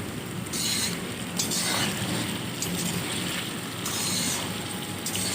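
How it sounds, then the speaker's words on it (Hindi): A spoon stirs chicken karahi in a pan with a steady, busy sizzle and scrape, with soft clinks now and then and no talk. "चम्मच चलाएंगे।"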